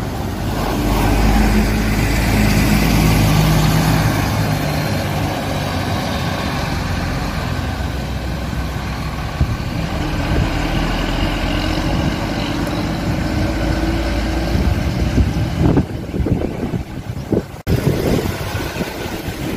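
An intercity AKAP bus engine idles with a steady low rumble, then revs and pulls away, the drone shifting as it departs. The sound is loud and continuous against a busy outdoor background.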